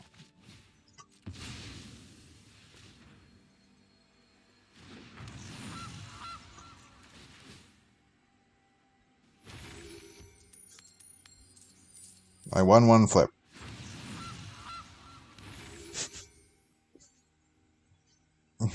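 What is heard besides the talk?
goose honking in a card video game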